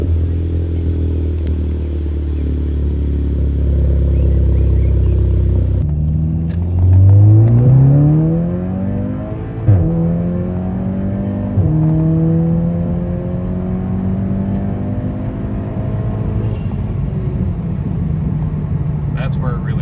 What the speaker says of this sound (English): Now we can do a warm start.